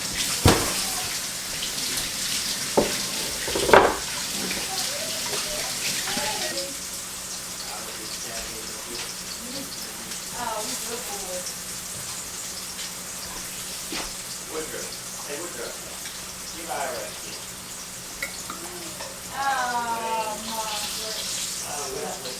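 A tomato rinsed under a running kitchen faucet, water splashing and trickling steadily close by, with a few clunks near the start and occasional speech mixed in.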